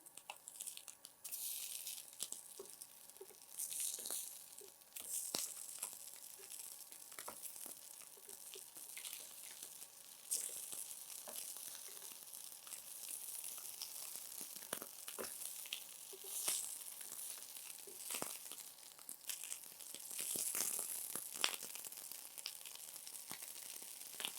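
Rava cheese tikki fry over a medium flame in a pan with a soft, continuous crackling sizzle and occasional faint crinkles and taps, quiet and steady throughout.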